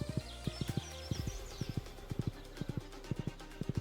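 Horse charge in a video game: rapid clusters of hoofbeats thud again and again in a steady galloping rhythm, loud and close, with bright clashing noise above them early on.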